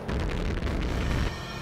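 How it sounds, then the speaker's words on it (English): A loud, rumbling video game explosion roars through the whole moment as a dense, sustained boom with no voices over it. "It's gonna explode!"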